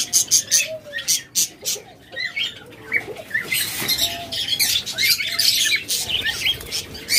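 Caged lovebirds in a pet bird shop chirp and squawk continuously, a busy flock of sharp, high calls overlapping one another at close range, with occasional rustling and wing flutters.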